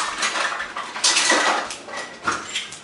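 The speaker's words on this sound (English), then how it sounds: "So let's get out some measuring cups." Metal measuring cups and spoons being taken out in a kitchen, producing a few bright clinks and jangles of clattering metal at close range with short pauses between them.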